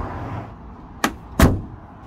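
A car door fitted with sound-deadening material shuts twice in quick succession, each closing a dull, muffled thud rather than a metallic clank, close and fairly loud over a quiet background.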